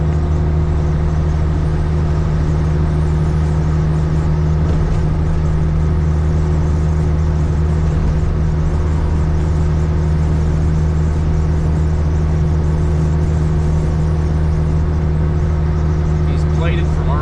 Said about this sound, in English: Oh, our heavy haul truck's coming by us again.